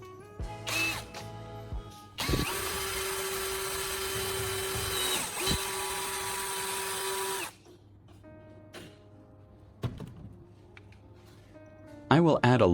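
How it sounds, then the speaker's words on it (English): A power drill bores a hole through the center of a red plastic bottle cap, a steady high whine running about five seconds with a brief dip midway, preceded by short handling clicks and followed by quieter rustling. "Now I'm going to take a red cap and drill a hole in the center."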